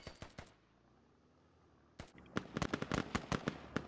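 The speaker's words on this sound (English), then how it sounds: "Shots trading back and forth." Gunfire is exchanged in the video game Squad as sharp, distant cracks: a few quick shots, a pause, then a denser volley of rapid pops trading back and forth.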